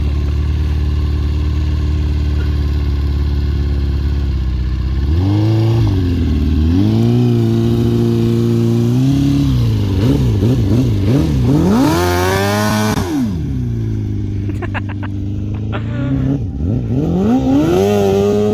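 Swapped engine in a dune vehicle idling with a low steady rumble, then revving repeatedly in rising and falling bursts, loud and close, with no talk.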